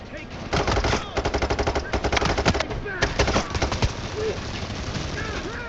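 Automatic rifle fire from the video game Payday 3, rapid bursts of shots rattling in quick succession, loud and close, with game sounds behind.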